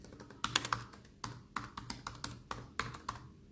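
Typing on a computer keyboard, close and quiet: irregular bursts of crisp key clicks with short pauses, alone without talk.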